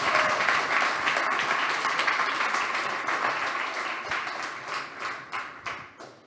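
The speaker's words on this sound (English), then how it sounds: "Great applause for our winner team today." Applause for the winning team at a Demo Day 2022 AI startup pitch event: dense crowd clapping that gradually thins out, ending in a few scattered, distinct claps.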